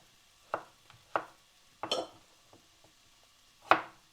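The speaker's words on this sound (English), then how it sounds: "I'm just going to start chopping my potatoes" A knife chopping potatoes into small pieces on a board, four or five distinct close cuts spaced irregularly, with faint softer taps between.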